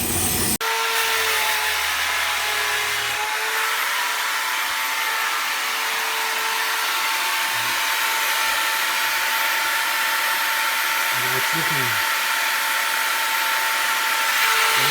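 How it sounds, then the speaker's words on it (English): A power tool grinds and polishes the center rod of a homemade PEG cell, giving a continuous, loud, steady whine with a brief low rumble near the start and slight shifts in pitch later on. "So this is really grinding into it to make sure the contact is good all over."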